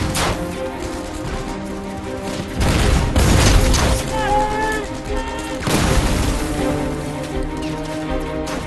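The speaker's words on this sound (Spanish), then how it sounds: "Los miembros de la compañía Fox usaron granadas y disparos para forzar la rendición del búnker alemán en Hilltop" Gunfire and grenade explosions during a WWII assault on a German hilltop bunker, loud bursts and booms repeating over several seconds beneath a voice speaking, with a whistling rise in the middle.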